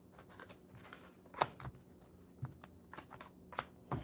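A deck of cards being shuffled by hand, with several quick riffling bursts and soft snaps spread across a quiet stretch with no talking.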